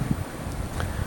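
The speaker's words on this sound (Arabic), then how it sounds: "وهذه الريح أو العاصفة الثلجية ما زالت تهب بكثافة" Hard blizzard wind buffets the microphone in a steady low roar, close and continuous, with gusty rumbles during a deadly snowstorm on the US east coast.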